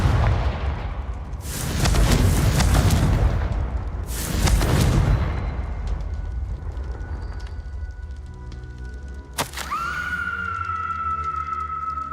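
Two heavy blasts from a Confringo spell in Hogwarts Legacy burst close and loud, each with a rumbling tail, followed by a sharp crack and a sustained ringing tone.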